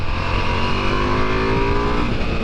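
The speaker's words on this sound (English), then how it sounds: "there is something quite special, and I don't want to get all romantic here, about riding a Ducati in Sardinia" A Ducati Multistrada V4 Rally motorcycle ridden on a Sardinian road, its engine droning loud and steady throughout with a sustained, slightly rising pitch, heard close from the rider's position with no talk.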